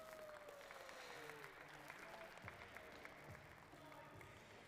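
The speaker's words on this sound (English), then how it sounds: "so let's give them a round of applause" Museum visitors watching glassblowers finish the top of a martini glass give a soft round of applause, faint and steady, with a few light knocks and murmurs underneath.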